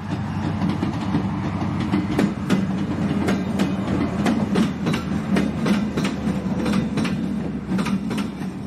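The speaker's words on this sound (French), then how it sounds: "grimper à bord d'un TER Rémi direction Chartres" TER Rémi regional train travelling from Paris toward Chartres, heard from aboard as a steady rumbling roll with repeated rhythmic clickety-clack wheel beats over rail joints, loud and continuous throughout.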